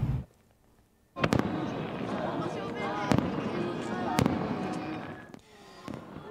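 Fireworks go off during a total lunar eclipse at Ozekiyama Park in Miyoshi, Japan, in sharp separate bangs, five or six loud bursts over a crowd's murmur and a rumbling background din.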